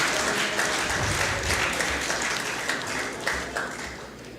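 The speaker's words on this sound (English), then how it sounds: "Let's give them a big round of applause" Guests at a managing committee investiture ceremony give a big round of applause, dense continuous clapping from a crowd that stays strong and even throughout, with a low hum beneath.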